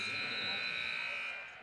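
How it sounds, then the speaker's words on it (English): A sustained electronic buzzer blares loud and steady at the end of the third quarter of a girls' high school WPIAL playoff basketball game in a gym, fading slightly at the close. "At the buzzer."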